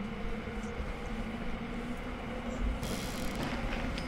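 Train in the video game Sniper Elite V2 at the Kopenick launch site, a steady low rumbling rail noise that holds throughout, with a brighter burst of clatter near the end and no speech over it.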